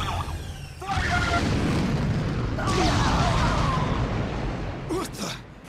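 Ships open fire with a purification blast in the action game Asura's Wrath, a loud sustained booming roar with rumbling bursts that swells midway and cuts off near the end.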